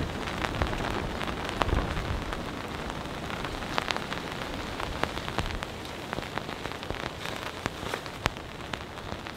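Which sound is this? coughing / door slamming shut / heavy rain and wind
heavy rain and wind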